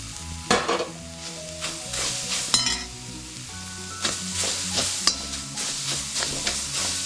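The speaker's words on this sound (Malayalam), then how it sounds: "ഇത് നന്നായി ഇളക്കി കൊടുക്കുക." Boiled, chopped potato pieces are stirred in a pan of hot coconut oil, a steady sizzle broken by repeated scraping strokes and occasional clinks of the spatula against the pan, close and alone.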